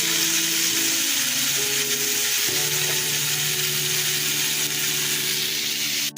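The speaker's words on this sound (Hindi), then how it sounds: "चिकन हमारी फ्राई हो रही है।" Minced chicken, 250 grams, fries in a pan as a steady, close sizzle with a constant hiss and no talk.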